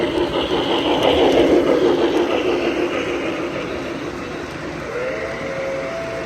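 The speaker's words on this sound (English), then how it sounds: "This right here is a rather neat layout, as it consists of Z-scale trains, the smallest you can get in terms of model railroading." Z-scale model trains run on a layout, giving a steady mechanical hum and rumble with a faint whistle-like tone, continuous and fairly close, with no talk over it.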